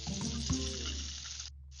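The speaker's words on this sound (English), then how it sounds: "Get some butter sizzling, add a little lime and mandarin zest." Butter sizzles in a crêpe pan with lime and mandarin zest, a short, steady hiss that cuts out briefly near the end.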